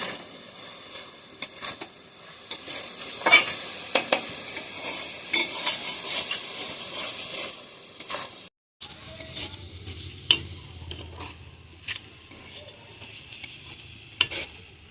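Grated coconut with a bay leaf is stirred in a frying pan, giving a close, steady sizzle broken by scraping spoon strokes and a brief pause before the stirring resumes.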